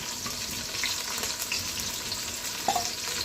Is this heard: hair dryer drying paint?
no